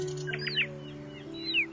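Birds in a small green forest give two brief, high chirps about a second apart over a steady low hum, moderately close.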